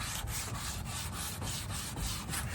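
Aluminum rubbed briskly back and forth over a chrome surface to clean it, a steady rasping scrub with a regular stroke roughly every quarter second, close and loud with no talking.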